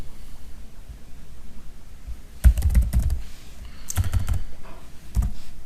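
Computer keyboard keys clatter in short, quick bursts as PHP code is typed, with pauses of near silence between the flurries of clicks.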